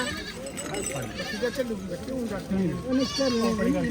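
Goats bleat repeatedly on a goat farm, wavering calls overlapping one another at close range amid steady background noise and people talking.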